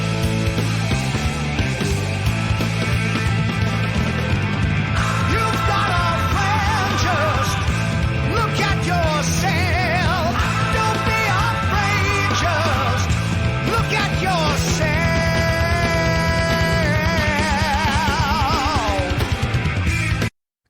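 Dense rock recording with loud, thunderous drums that sit near the edge of distortion, under full band and voices, continuous and loud for about twenty seconds before cutting off abruptly.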